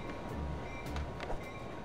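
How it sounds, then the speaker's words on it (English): Steady rumbling train noise from a video game set in a rioting Soviet-style city, a continuous low mechanical roll with faint rail clatter and brief hissing bursts, heard alone at moderate level. "I need to stop the train at all costs."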